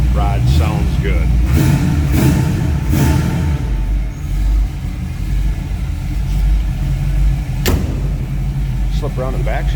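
A 1932 Ford Roadster hot rod engine runs at a steady, close, loud idle, a deep continuous rumble with a few brief surges, while voices can be heard over it.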